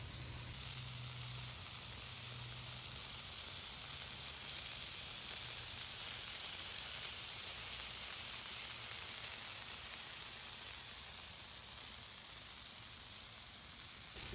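Smash burger patties sear on a Blackstone griddle, a steady close sizzle and hiss that holds evenly throughout with no talking.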